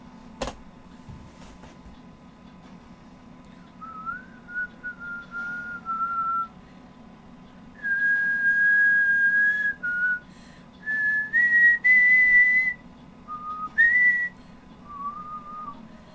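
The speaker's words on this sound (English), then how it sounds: "I don't know why I started whistling that." A person whistles a melodic tune in a quiet room, with sustained phrases and short pauses between them over a low steady hum.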